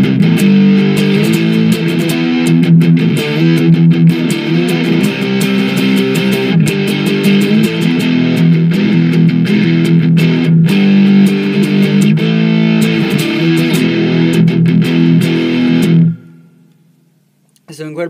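Electric guitar through an OS-2 distortion pedal set to full distortion plays thick, crunchy chords continuously, loud and saturated, then cuts off and rings out near the end.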